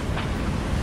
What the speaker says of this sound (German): 28 Knoten Wind und 2 Meter Welle.